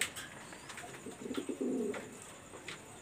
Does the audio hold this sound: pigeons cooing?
yes